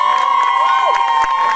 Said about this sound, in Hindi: बार इन दोनों के लिए आशीर्वाद भरी जोरदार ताली होनी चाहिए।